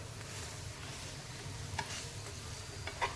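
Bajra flatbread (dhapata) roasting on a hot griddle gives a low, steady sizzle with a couple of faint ticks and crackles near the end, quiet and close.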